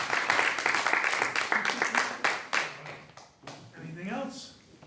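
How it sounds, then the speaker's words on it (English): A board of education meeting breaks into a brief round of applause, a burst of many hands clapping that thins out and fades, with people talking right after. "One last round of applause for Gladys Cooper."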